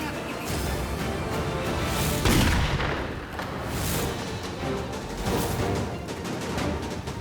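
Loud gunfire booms out, a sharp blast followed by further cracking shots and rumbling echoes over noisy background.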